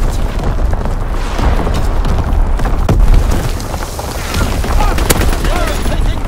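Artillery strike explosions in Call of Duty: WWII, heard as dense, continuous rumbling booms and blasts with scattered gunfire layered throughout.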